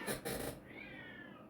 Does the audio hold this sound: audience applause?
no